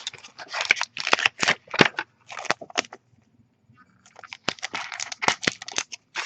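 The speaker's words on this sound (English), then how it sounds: "Rip open the cardboard outer pack." A Magic: The Gathering cardboard outer pack is torn open by hand in a close series of sharp ripping and crinkling bursts, pausing briefly midway before more rapid tearing resumes.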